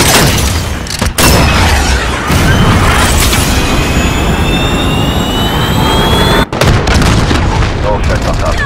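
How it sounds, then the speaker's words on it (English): Cruise missile strikes in Call of Duty: Modern Warfare land as a loud, sustained roar of engine wash and heavy booming explosions, with brief gaps near the start and again later, while voices speak over the din. "Cruise missile go for launch"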